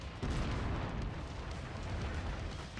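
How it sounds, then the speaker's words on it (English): Heavy weapons fire from giant mechs in MechWarrior 5: Mercenaries, blasting and tearing down buildings, a continuous loud barrage of booming explosions and rumbling destruction with no pauses. "just keep blasting away and tearing these buildings down in its glorious glory"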